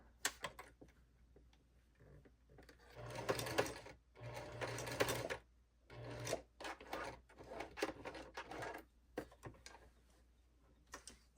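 A sewing machine stitches a single-stitch strap seam on a slip dress, running in short rapid close-up bursts separated by pauses, with a quiet mechanical clatter between runs.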